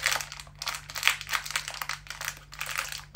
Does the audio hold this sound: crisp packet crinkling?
yes